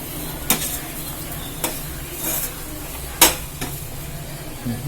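Pumpkin halwa with jaggery stirred in a pan: a few sharp, separate scrapes and knocks of the spoon against the pan over a low, steady sizzle, with no voices.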